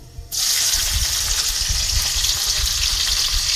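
Garlic drops into hot oil already crackling with five-spice seeds, and a sudden loud sizzle bursts out and keeps hissing close and steady, with no one speaking.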